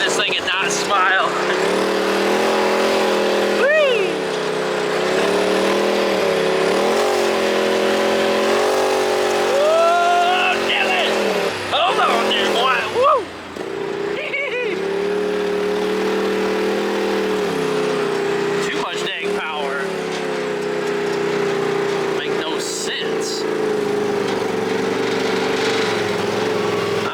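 Ford F-350 Powerstroke diesel flatbed truck driving, a continuous loud engine drone with rising and falling revs and gear changes, heard from inside the cab with people talking over it.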